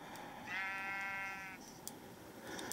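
Sheep bleating in the game Minecraft: one drawn-out, wavering bleat lasting about a second, fairly close and clear over a quiet background, with faint sounds after it.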